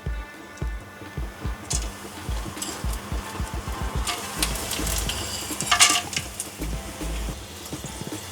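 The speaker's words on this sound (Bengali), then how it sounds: "এবার দিয়ে দেবো গোটা যে গরম মশলাগুলো রেখেছিলাম সেগুলো আমি দিয়ে দেবো।" Whole garam masala spices sizzle and crackle in hot oil, with a steady frying hiss under repeated close scraping and tapping of a spoon stirring in the pan, and no voices.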